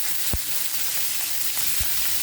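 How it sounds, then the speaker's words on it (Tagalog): Meat sizzles and crackles steadily in a hot pan, close up, with a couple of soft knocks from the utensils. "prito lang natin siya ng mga ilang minuto."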